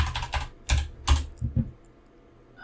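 A password is typed on a computer keyboard as a quick burst of close key clicks, then a few slower taps, before the sound falls to near silence.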